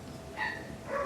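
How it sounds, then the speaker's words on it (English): Two short dog barks a moment apart, faint and distant against a quiet backyard background. "you might hear the dogs barking"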